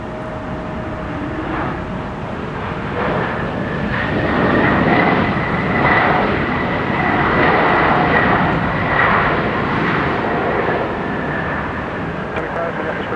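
Delta Airbus airliner at Minneapolis–St. Paul airport, a steady engine roar that swells and holds for many seconds, with a whining tone over broad rumble, loud and close, with talk mixed in.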